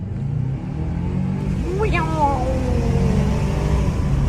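BMW M3 four-cylinder engine running at a car auction in Chicago, a steady close rumble that swells slightly louder partway through, with someone talking over it.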